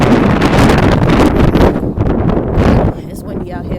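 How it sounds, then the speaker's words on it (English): Strong gusty wind buffets the microphone with a loud, constant low rumble that eases slightly toward the end. "It's windy out here."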